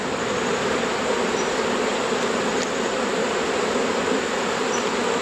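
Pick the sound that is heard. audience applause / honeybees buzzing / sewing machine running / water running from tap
honeybees buzzing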